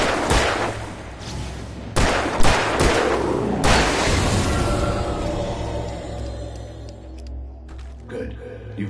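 Several sharp gunshots from Alan Wake Remastered ring out in separate bursts, each trailing into a rumbling echo, with a deep drone underneath and a voice speaking during part of the scene.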